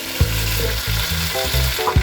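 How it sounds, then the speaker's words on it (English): Green seasoning and aromatics sizzle steadily in a hot pan for Caribbean oxtail mac and cheese, with a continuous close frying hiss broken by a few brief stirring scrapes. "to let this saute for about a couple of minutes. Let's stir so it doesn't stick."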